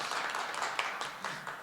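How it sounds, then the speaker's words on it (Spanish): Audience applause at a book presentation: a steady wash of clapping from a crowd, moderately loud and sustained for the whole short stretch, with a few sharper individual claps standing out. "Un aplauso."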